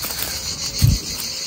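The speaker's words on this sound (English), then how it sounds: "Gosh, the cicadas are really loud" Cicadas buzz outdoors in a steady, high, continuous drone that fills the whole short stretch.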